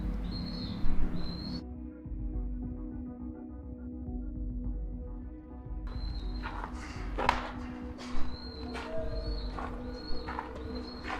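Pigeons cooing inside an abandoned 1970s hospital boiler building, repeated soft coos echoing over a constant low mechanical-like rumble, with a few scuffs and thumps.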